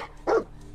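A dog barks once in the video game Fallout 4, a single short, clear bark over quiet game ambience.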